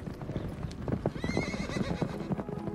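A horse neighs loudly over a steady clip-clop of hooves, with other hoofbeats and faint movement sounds around it, close and continuous.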